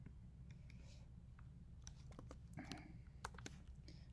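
Quiet typing on a computer keyboard, a scattered run of light, quick key clicks that get denser toward the end, heard close over a low steady hum.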